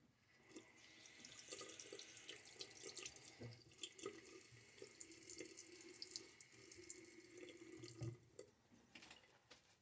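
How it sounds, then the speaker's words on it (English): Tap water runs steadily and close by into a sink while more water is added to vegan-base Derby Extra shaving soap lather, with small clinks and splashes over the stream and no talking. "Added some more water to it."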